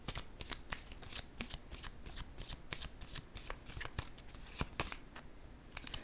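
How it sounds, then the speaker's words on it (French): A deck of tarot cards is shuffled and drawn for a card reading, giving a steady run of crisp riffling flicks and soft papery slaps, close and fairly quiet with no talking. "Je vais piger une autre carte."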